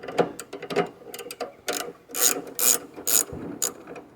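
A wrench ratchets to loosen the blade tension on a Wood-Mizer LX-25 sawmill, giving short bursts of crisp metallic clicking in an irregular rhythm, close and fairly loud.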